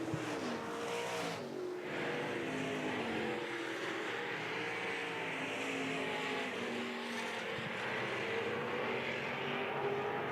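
IMCA stock cars racing at RPM Speedway in Colby, Kansas make a continuous roaring engine drone that holds steady and loud at mid-distance, with a slight swell as the field runs down the backstretch.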